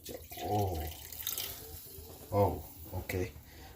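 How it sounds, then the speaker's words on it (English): Soy sauce poured into a pot of pork adobo gives a soft, brief splashing trickle, heard between bits of a person talking. "you gotta add the 1 cup of soy sauce"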